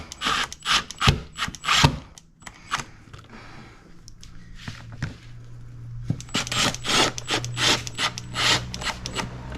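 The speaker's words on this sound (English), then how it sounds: "It's plastic, so just sneak up and then we'll tighten it with the screwdriver." A screwdriver tightening a plastic part on a car, giving close, sharp ratcheting clicks in quick bursts with a quieter pause in the middle.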